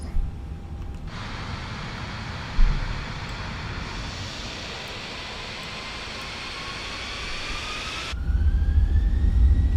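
Simulated airliner jet engines spool up on a Fenix A320 in a flight simulator, a steady broad roar holding for several seconds with a rising whine, then cutting to a lower rumble near the end; no talking.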